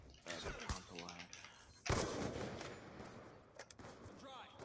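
Gunfire in a video game, with sharp shots and bursts, the loudest near the middle, mixed with game effects and a player talking.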